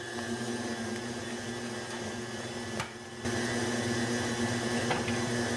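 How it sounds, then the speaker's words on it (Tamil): An electric mixer whirs steadily, beating eggs into cake batter for a chocolate cake, with a brief dip in the motor about halfway through before it resumes at full speed. "இப்போ இதையும் ஒரு 30 செகண்ட்ஸ் பீட் பண்ணுவோம்"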